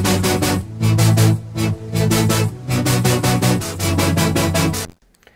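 A dense electronic synth passage with bright, hissy high-end noise layered over pulsing bass, playing in rhythmic bursts before cutting off near the end.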